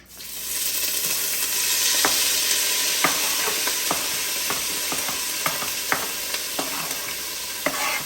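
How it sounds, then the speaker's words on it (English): Vegetables brown in a hot frying pan for a seafood sausage jambalaya, a steady loud sizzle with irregular scraping clacks of a utensil stirring against the pan, close and without voices. "I'm browning the vegetables right now."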